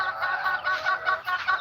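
Farm chickens in Aklan, just fed, cluck in a busy overlapping chatter at close range, a steady stream of short rhythmic calls with no talking.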